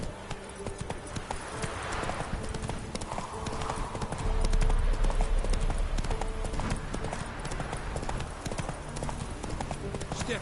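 Roach, the horse in the video game Witcher 3, clip-clops along at an even walking rhythm, close and clear, over low outdoor ambience and faint background voices.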